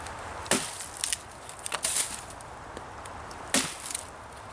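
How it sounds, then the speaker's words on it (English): A knife splits fatwood into fine splinters and kindling, giving sharp, close cracks and snaps in irregular bursts, several strikes over a few seconds, with no voices. "this makes it a lot more easy to work with my knife to get some real fine splinters and kindling that I can use to start my fire with"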